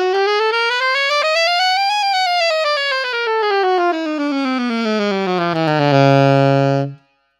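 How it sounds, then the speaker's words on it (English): A saxophone plays a simple chromatic scale as one smooth, continuous line, rising steadily and then falling, with the last low note held and swelling slightly before it stops, close and solo. "So let's start with the first exercise, which is the simple chromatic scale, and it's going to sound like this."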